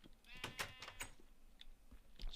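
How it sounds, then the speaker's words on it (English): Sheep in Minecraft penned in a makeshift enclosure give a few wavering bleats in quick succession, fairly close, followed by quieter scattered bleats with some soft game noise around them. "We've captured some sheep over here, just in this sort of ghetto pen thing."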